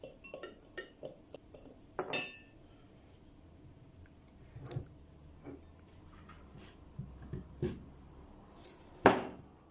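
A spoon stirring garlic sauce in a bowl, heard as soft scattered clinks and taps against the bowl's side, with a few sharper knocks standing out over quiet pauses.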